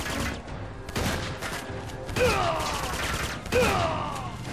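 Gunfire rattles through a firefight in Uncharted 2: Among Thieves on PS3, with repeated loud shots and bursts, some carrying whistling ricochet-like tails, under a steady wash of battle noise.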